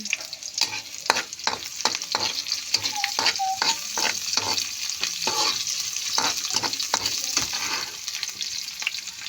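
Onions sizzle steadily in an oiled frying pan for adobong gulay while a utensil scrapes and clinks against the pan again and again, with a continuous hiss of frying underneath.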